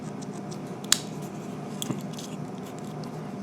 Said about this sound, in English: has a little pair of scissors